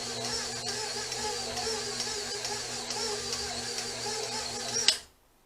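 A 540-watt kitchen power appliance called Big Red runs steadily while cooking Italian-style meatballs, producing a constant buzzing motor drone. It cuts off abruptly after about five seconds.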